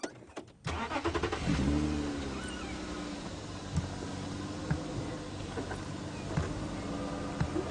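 Safari vehicle moving forward on a game drive, a mid-pitched engine rumbling steadily after a brief start, with occasional knocks and bumps over rough ground.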